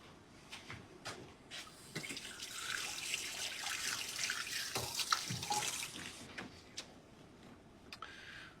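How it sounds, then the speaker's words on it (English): Cold water runs from a kitchen tap into a sink as a cleaned sea bass is rinsed, a steady close splashing hiss with shifting spatter and a few brief clunks, no voices. "I'm going to take it over to the sink and just rinse it out with some cold water."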